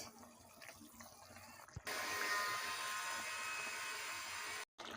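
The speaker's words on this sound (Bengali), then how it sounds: "এবারে ঝোলগুলো ফুটে গেছে দিয়ে দেবো মাছ" Koi fish drop into boiling curry gravy in a pan, and after a brief clatter a loud, steady sizzling hiss and bubbling starts and carries on close up.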